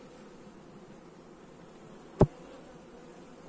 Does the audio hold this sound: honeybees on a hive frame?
yes